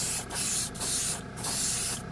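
A Grex airbrush with a 0.3 nozzle sprays acrylic paint in a steady hiss, broken by three or four brief pauses as the trigger is released, close and alone.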